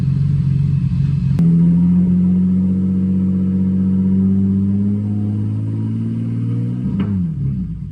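A 700 hp single-turbo Infiniti G37 running on E85 pulls through a pass, a loud, steady engine drone rising in pitch, with a sharp gear-change click at the start and another near the end.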